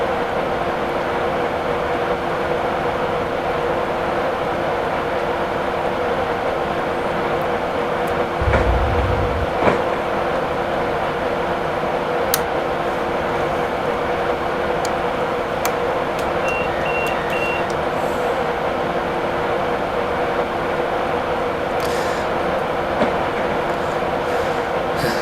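A train runs in Train Simulator 2017, a steady, continuous rumble and hum, with a brief low thump partway through and no talking.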